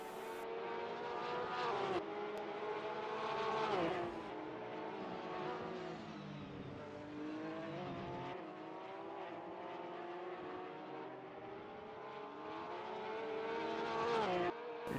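Porsche Supercup race cars at Monaco drone and rev continuously, their engine notes climbing and falling as gears change and cars pass, heard at moderate distance for the full stretch with no voices.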